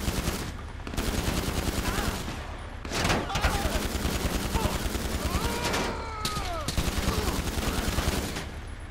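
A vehicle-mounted gun firing in GTA 5 Online, sustained rapid machine-gun bursts with loud continuous rattle across the whole stretch, a couple of brief gaps, with game sounds mixed in and no talking over it.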